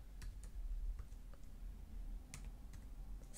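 Soft keystrokes on a computer keyboard while Python plotting code is entered, a few scattered, light clicks over a low room hum, with no voices.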